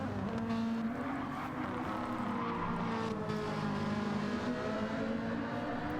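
Race cars at the Spa circuit, a Ferrari among them, drone with steady engine whine that rises in pitch as they run continuously and loud, with no pauses.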